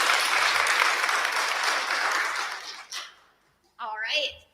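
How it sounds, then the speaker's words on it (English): An audience claps loudly and steadily for a few seconds before the applause fades out. A person then speaks briefly at a university rivalry event held with the U.S. Embassy in Bishkek, Kyrgyz Republic. "Another round of applause for Veronica."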